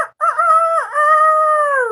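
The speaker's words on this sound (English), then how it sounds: "We have the chicken rooster that crows every morning" A rooster crows once in a loud, close, sustained cock-a-doodle-doo with a wavering start and a long held final note, heard alone.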